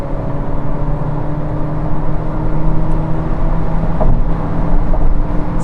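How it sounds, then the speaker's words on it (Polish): Steady engine drone of a VW Golf 8 estate accelerating at full throttle on a motorway, with constant road and wind roar and a low hum that swells slightly toward the end. "jesteśmy na autostradzie, wciskam gaz w podłogę"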